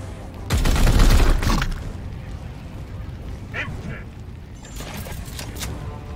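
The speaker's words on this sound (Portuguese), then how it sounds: "Dá uns tiros primeiro." Gunfire in Warhammer 40,000: Chaos Gate Daemonhunters crackles as a loud burst of shots early on, followed by quieter scattered in-game effects and mechanical noises.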